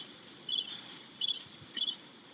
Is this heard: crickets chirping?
yes